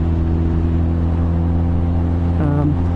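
A motorcycle engine runs steadily at idle, a constant low droning hum close by, with a brief rise in pitch near the end as the throttle is blipped.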